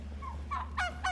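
Duck by a frozen farm pond during a Texas snowstorm, giving three short nasal honking quacks in quick succession, close and fairly loud over a low steady hum.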